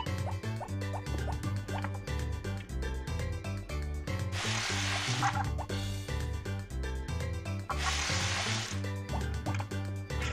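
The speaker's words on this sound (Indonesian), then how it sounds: "Kita siram dulu." Crops are watered in the farming game Harvest Moon: Back to Nature: two short splashing pours of water, each about a second long, rise over looping, cheerful game music.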